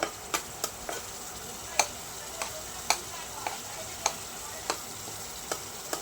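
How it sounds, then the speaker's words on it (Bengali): Ginger spice paste stir-fried in a pan, a low steady sizzle marked by a regular series of light, crisp spoon taps and scrapes at the pan, close up and quiet, without speech. "আদার মশলা হয়ে গেছে। একটু ভালো মতো কষিয়ে নেবো।"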